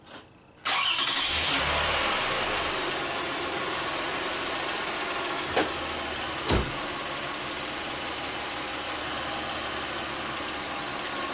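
A Toyota or Lexus car engine with a low-voltage charging fault cranks briefly, catches loudly, then settles into a steady idle, with a couple of short rev blips later on.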